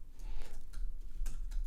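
Code is typed on a computer keyboard in quick, uneven clusters of soft close keystrokes over a low background hum, with no speech.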